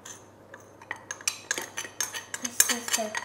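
Quick metallic clinks and scrapes of a whisk against a bowl, whipping a cake cream of butter, boiled condensed milk and cocoa, tapping in an uneven rhythm that speeds up, with no talking.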